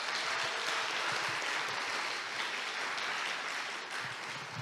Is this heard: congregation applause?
yes